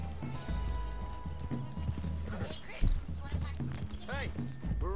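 Horses' hooves clip-clop in the Red Dead Redemption 2 video game, a steady rhythmic trot close by, with a whinny and people talking throughout.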